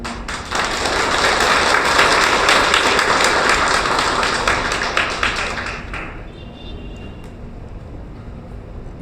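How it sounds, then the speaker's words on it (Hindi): Audience applause at a Kolkata political gathering honouring great leaders, a dense sustained clapping from a large crowd that fades after about six seconds into quieter room noise. "उन महापुरुषों के लिए तालियां।"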